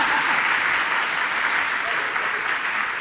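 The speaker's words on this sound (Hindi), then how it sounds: "एक बार तालियां तो बजा दो," Dense, sustained applause from a large seated audience at a Jain religious discourse in Jharkhand, a continuous even roar of clapping hands that holds loud throughout.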